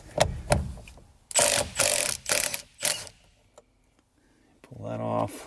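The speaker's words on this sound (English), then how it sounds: "So you need an M12 square drive. And this is a Milwaukee Compact Torque." A Milwaukee M12 compact torque ratchet wrench works on a Porsche 997.2 GT3 steering wheel, short loud ratcheting bursts in quick succession, then a pause and a softer mechanical whir.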